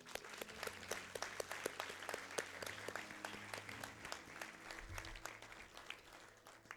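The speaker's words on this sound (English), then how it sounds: "Let us give a resounding round of applause to our beloved Vice Chancellor." Applause rises for a university Vice Chancellor at a convocation ceremony, a distant, fairly faint patter of many hands with a steady flow of sharper individual claps throughout.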